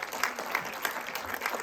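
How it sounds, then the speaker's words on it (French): Steady applause from a crowd, continuous clapping at moderate distance without any pauses. "on peut les applaudir"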